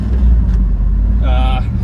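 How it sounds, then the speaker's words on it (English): A 1997 Chevrolet Camaro SS with a 6-speed manual idles with a loud, steady low engine rumble throughout, close by, while a person speaks over it. "we're going for a ride in our 1997 Chevy Camaro"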